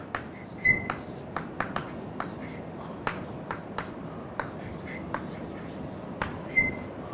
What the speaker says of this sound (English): Let me write this.